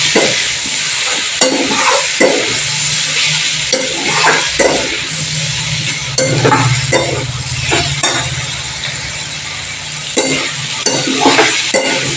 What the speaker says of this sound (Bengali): এবার মশলার সাথে একসাথে এই পোলার আলুটাকে ভালো করে কষিয়ে নেব